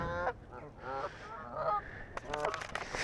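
Geese and other fowl honk and squawk loudly and repeatedly at close range while being hand-fed, a dense overlapping chorus of calls.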